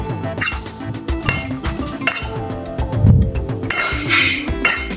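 A spoon clinks and scrapes against a bowl while chopped onion and spices are mixed for chicken paratha, giving repeated close, bright metallic taps in an irregular rhythm.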